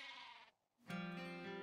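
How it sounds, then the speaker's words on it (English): Sheep bleating in the fantasy video game Shroud of the Avatar, one wavering bleat, then a brief gap and a second louder, sustained bleat, with no talk. "Loads of sheep over here."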